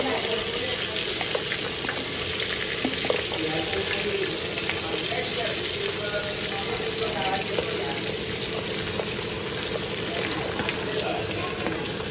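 Steady crackling sizzle of tempering spices frying in hot oil, continuous and moderately loud, with a faint voice now and then.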